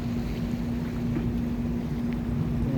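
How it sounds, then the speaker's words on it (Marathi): Cargo vessel moving through sea water near a coastal channel, a steady low engine drone with a constant hum and broad wash of water and wind noise, continuous and fairly loud, no voices. "अशा प्रकारे हे जहाज आहे पाण्यामध्ये समुद्रामध्ये असे चालत असते"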